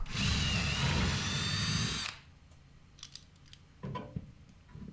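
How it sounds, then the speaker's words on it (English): A power drill whirs loudly and steadily for about two seconds, pre-drilling holes for lag screws while installing a Rogue folding home gym rack, then stops, followed by a few faint clicks and light handling noises. "I'm putting a drill bit into the drill so that I can pre-drill the holes for the lag screws"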